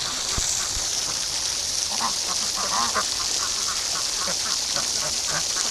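Muscovy ducklings give soft, scattered quacks and peeps against a steady loud hiss of running water, with no voices.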